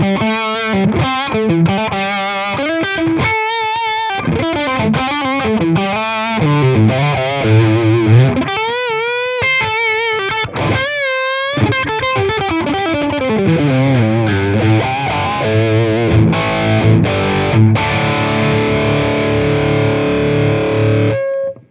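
Electric guitar played through an Amplitube SilverPlate 50 amp model into a Brit 80 speaker cabinet, a continuous distorted melodic riff with sustained bending notes and brief gaps, loud, close and steady throughout with no talking.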